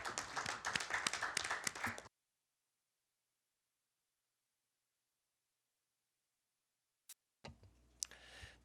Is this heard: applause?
yes